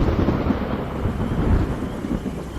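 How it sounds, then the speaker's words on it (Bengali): Loud thunder rumbles continuously with the hiss of falling rain, a deep, rolling storm sound with no voices. "হঠাৎ কোথাও খুব জোরে কড়কড় করে বাজ পড়ল।"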